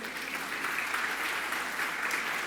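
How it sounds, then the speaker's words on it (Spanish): A church congregation gives sustained applause for a member, a steady, even roar of many hands clapping with no voices standing out, filling the room. "Un aplauso para el hermano Henry, por favor."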